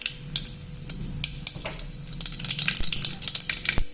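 Oil sizzles steadily as mustard seeds and urad dal fry for fish curry, with scattered sharp pops and crackles throughout, close and moderately loud.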